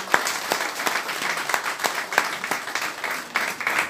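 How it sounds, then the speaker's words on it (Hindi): Loud applause from an audience at a Hindi-speaking celebration of a birthday, honoring a former chairman who is asked to stand; dense clapping runs steadily throughout with sharp individual claps standing out nearby. "खड़े हो जाए, जोरदार तालियां उनके लिए"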